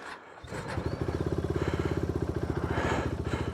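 A KTM Duke motorcycle engine starts and settles into a loud, close, steady rhythmic idle with evenly pulsing firing beats, no talk over it.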